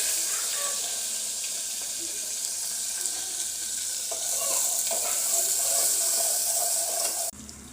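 Cumin, onion and green chili sizzling in a pot on the stove for a meat dish, a steady loud hiss with occasional stirring scrapes and a louder spell of frying before it cuts off abruptly.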